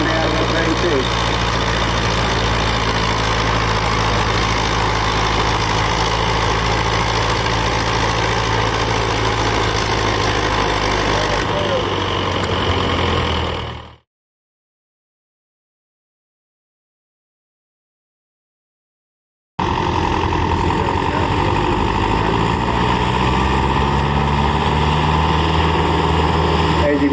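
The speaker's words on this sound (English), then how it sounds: "that tractor's pulling heavy. They're making use of every bit of that 37 horsepower coming out of the P6." A vintage tractor with a 37 horsepower P6 engine pulls a heavy sled at a rural tractor pull, its engine droning loud and steady, cutting out for several seconds before roaring back, with a commentator speaking over it.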